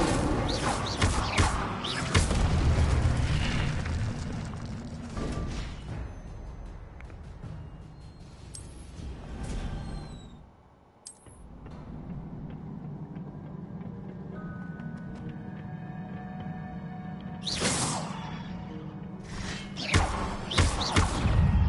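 Incendio fire spell cast in the Hogwarts Legacy video game: loud whooshing, crackling bursts open the scene and return near the end, with thuds and quieter game ambience in between.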